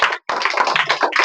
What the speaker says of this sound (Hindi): जोरदार ताली लगाओ